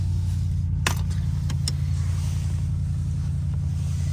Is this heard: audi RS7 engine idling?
yes